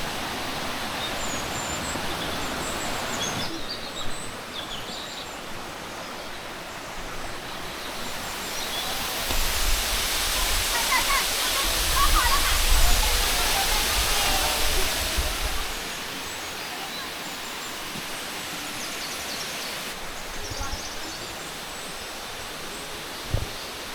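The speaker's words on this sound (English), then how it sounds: "So it's a multiple waterfalls while you're hiking up a mountain." A continuous roar of multiple waterfalls along a mountain trail near Kuala Lumpur, swelling louder through the middle before easing back, with occasional faint knocks over the steady rush.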